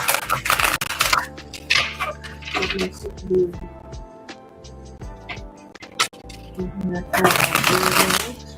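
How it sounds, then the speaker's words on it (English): Tarot cards are shuffled in quick riffling bursts at the start and end, with soft clicks and handling noises in between over a quiet background. "Shuffle the cards for our Virgos here."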